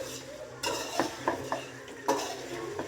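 Chicken is mixed with masala in a bowl, making soft, squelchy stirring sounds with a few light clinks of a spoon against the bowl, close and intermittent over a low background hum.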